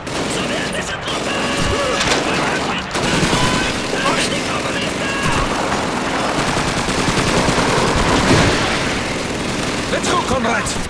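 Sustained submachine gun fire in Call of Duty 2's Red Army training mission, dense overlapping bursts and rattling shots filling the whole stretch, loud and close with battlefield din and shouted voices mixed in.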